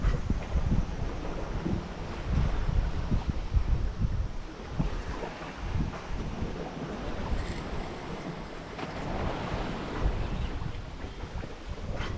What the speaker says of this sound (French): Allez, 9 nœuds de vent.